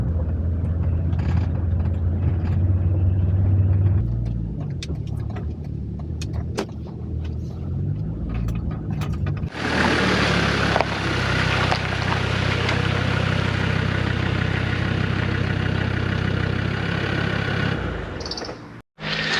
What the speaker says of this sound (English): I'm driving down the narrow east of lanes with tractors coming at me, cars behind me.